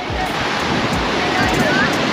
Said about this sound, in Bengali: ও দেখেন ঢেউর কারবার দেখেন, এই দেখেন ঢেউ।